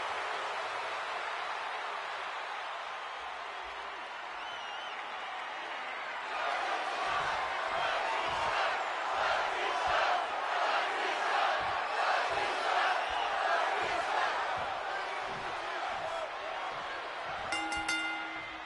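Large WrestleMania arena crowd in the WWE 2K26 wrestling game, a steady low murmur that swells into loud, sustained cheering and roaring for the second half, with a few bright chimes near the end.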